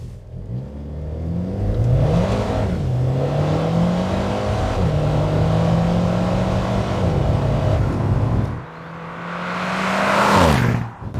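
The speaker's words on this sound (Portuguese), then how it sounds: "vamos passar pelas marchas de novo." An Alfa Romeo sports car accelerating hard through the gears, its engine note climbing in repeated sweeps with brief dips at each upshift, then a final rev rise, loud and close with no talking.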